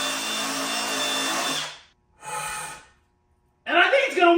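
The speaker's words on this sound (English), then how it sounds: "Well, I am drilling it out." A power drill bores out a plastic washer fluid tank mount, with a steady broadband whir for almost two seconds, then a short burst, a pause, and a louder, rougher final run.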